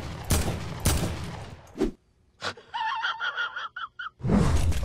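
Gunfire from a heavy assault rifle in a video game comes in loud bursts of booming shots, with gaps between them filled by game sounds and a brief strained vocal noise.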